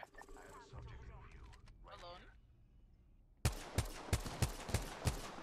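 Rapid gunfire from the video game Apex Legends bursts out after a few seconds of quieter game sounds and chatter, several sharp, evenly spaced shots at close range.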